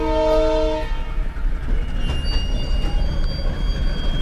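A train on the Ceres Pass railway sounds its horn loudly at first, then rolls past with rumbling wheels, squealing metal and clicking rail joints.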